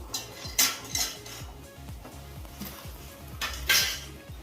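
A metal sandwich grill holding buttered vegetable cheese sandwiches is shut with a few sharp clanks and clinks, a louder metallic knock near the end, over a faint rhythmic background hum, with no talking.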